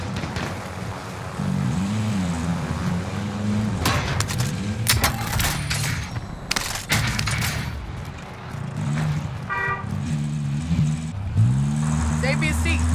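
A vehicle drives across Rebirth Island in Call of Duty Warzone, its engine humming steadily and shifting pitch through the whole stretch, with voices talking over it and sharp gunshot-like bursts breaking in midway.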